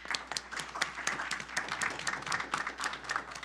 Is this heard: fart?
no